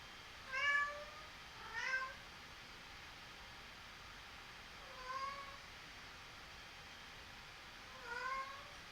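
A pet cat meows four separate times, each a short rising-and-falling cry over a steady background hiss, fairly distant and moderately quiet with gaps of silence between.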